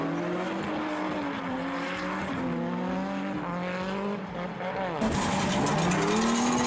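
Drift cars, including a Nissan Skyline, race side by side at Driftfest, with engines wailing and rising and falling in pitch as the drivers change throttle. A tire squeal rises near the end, and a commentator talks over it.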